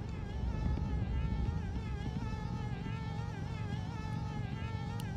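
Bees buzzing in the video game Conker's Bad Fur Day, a continuous wavering insect drone that holds steady and fairly close throughout, with no talk.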